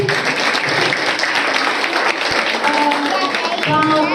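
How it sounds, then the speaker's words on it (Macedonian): Sustained audience applause for Kristijan Karovski at a kindergarten year-end performance, dense clapping holding at a steady, loud level throughout. "Еден голем аплауз за Кристијан Каровски."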